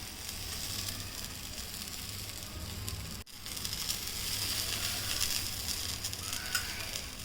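Dhapate flatbread sizzles on a tawa griddle under a lid, a steady, soft crackling hiss that runs throughout with one brief interruption midway.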